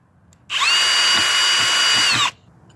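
A cordless power drill drives a screw into a wooden bat box, one close, loud whirring burst just under two seconds long that starts and stops abruptly.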